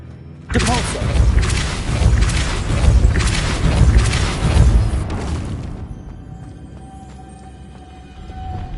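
A Depulso spell cast in Hogwarts Legacy bursts out with a loud forceful blast and rumbling crashing impacts lasting several seconds, then fades to a quiet hum.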